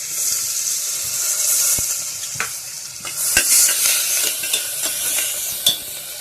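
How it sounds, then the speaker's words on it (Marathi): Onion sizzles in melted butter inside a pressure cooker for a carrot and beet soup. A spoon stirs it with scattered knocks and scrapes against the pot, over a continuous hiss. "बटर टाकून घेतलेलं आहे त्याच्यामध्ये आता कांदा टाकून घ्यायचा आहे"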